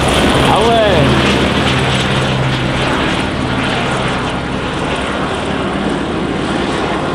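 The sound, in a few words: Canadair firefighting helicopters flying past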